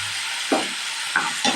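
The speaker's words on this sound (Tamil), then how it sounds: "நல்லா மிக்ஸ் பண்ணிக்கலாங்க." Chopped shallots, garlic and ground tomato fry in a pan for vathal kuzhambu, a steady loud sizzle broken by three short scraping stirs.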